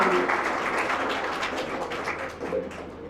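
Applause from students and guests at a college valedictory function for cultural and sports programmes, a fairly dense patter of clapping at moderate volume, steady throughout with slight swells.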